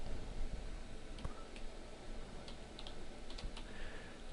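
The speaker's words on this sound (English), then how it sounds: "I'll type line height." Typing on a computer keyboard while entering a line-height setting for website text: a few faint, scattered key clicks over a steady background hiss, no speech.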